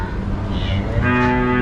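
Cattle at a crowded animal market in the Middle East moo loudly and close by, one drawn-out bellow rising over a steady low background murmur.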